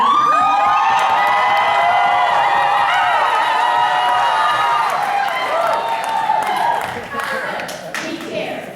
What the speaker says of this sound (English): Yell your heads off right now.